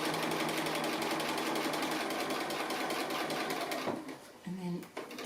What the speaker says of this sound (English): So I'm just going to do a little stitch around.